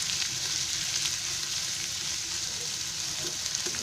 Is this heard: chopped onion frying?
yes